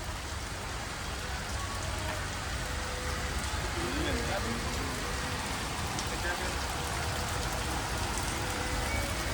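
Heavy rain pours down steadily on and around a hut used as shelter, a dense, unbroken hiss with no letup; a voice speaks faintly beneath the downpour.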